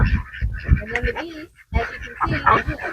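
Domestic geese on a farm honk in a loose, overlapping cluster, close and fairly loud, with a brief lull in the middle; farmyard voices murmur beneath the birds.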